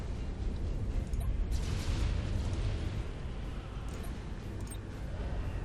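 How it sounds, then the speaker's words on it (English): Bombs exploding on an enemy ship in the space strategy game Battlefleet Gothic Armada, a dense, continuous rumbling roar of blasts with heavy low booms rolling together, loud and sustained throughout. "we've probably got enough space to start dropping a few bombs on them"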